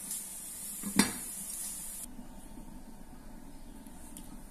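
A lid clanks once as a pot of parboiled-rice meat biryani is opened, then a steady low sizzle and simmer carries on while the rice is stirred, with no voices.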